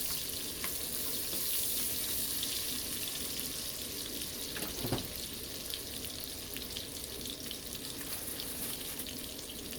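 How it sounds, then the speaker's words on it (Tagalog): Garlic and onion sautéing in a pan while being stirred, a steady close sizzle with an occasional scrape of the spoon, moderately quiet and without voices. "ilagay na po natin ang bawang at sibuyas na rin po. Halu-haluin lang po natin yan hanggang lumabas ang aromatic."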